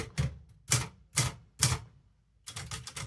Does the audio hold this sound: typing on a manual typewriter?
yes